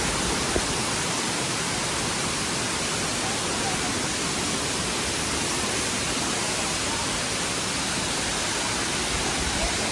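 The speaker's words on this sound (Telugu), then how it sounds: "సౌండ్స్ వినిపిస్తున్నాయి కదా. ఇప్పుడు మనం వాటర్ ఫాల్ దగ్గరికి వచ్చేసాం." The Duduma waterfall in Odisha roars as a steady, dense wash of noise, loud and unbroken throughout, with no other sound rising above it.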